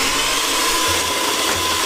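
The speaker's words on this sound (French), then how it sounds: "On va tenter de le rattraper avec le mixeur." A kitchen blender whirs loudly and continuously through a strawberry dessert mixture, its steady motor drone dipping slightly in pitch now and then, close up with no speech.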